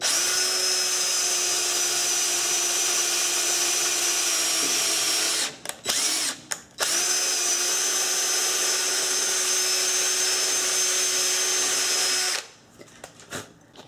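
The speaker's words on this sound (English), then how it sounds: "I'll just slowly keep on increasing the size of the drill bit until this entire old stem is completely removed" A power drill whines steadily at close range drilling out a snapped strut bolt, briefly stopping and restarting twice, then running on before cutting off near the end.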